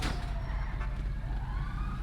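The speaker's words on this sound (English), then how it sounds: "I think you just listen for the siren." A police siren from a video game set at a police academy wails steadily over a low rumble, filling the short stretch without pause and no talk over it.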